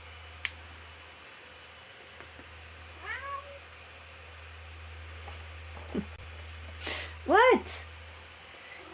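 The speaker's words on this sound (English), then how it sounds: "That is Sue mewing her little kitty head off." Sue, a pet cat, mews twice in rising and falling calls, first softly and then louder and closer, against a quiet room hum with small rustles and ticks in between.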